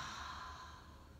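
A single slow, faint breath is let out during a yoga practice. It is soft and airy and heard alone.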